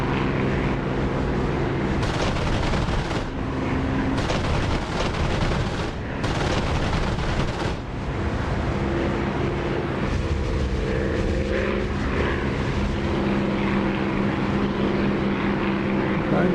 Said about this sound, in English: Engine sounds gorgeous with the canopy slid over.